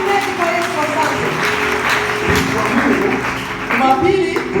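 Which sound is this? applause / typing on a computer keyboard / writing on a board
applause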